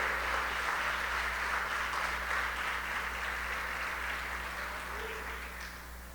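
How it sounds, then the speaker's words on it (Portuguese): Congregation applauding during a Portuguese church service, a steady, fairly soft wash of clapping with a low hum beneath, gradually fading toward the end. "aplaude com intensidade"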